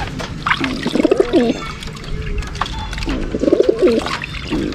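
Racing pigeons coo in two soft, rolling bursts close by, over a background of splashing water and rustling.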